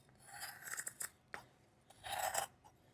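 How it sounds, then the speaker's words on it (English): Scissors snip through biax fiberglass cloth in two crisp, crunchy bursts of cutting, close and fairly quiet, with a brief gap between them. "we're going to cut 3 pieces of biax"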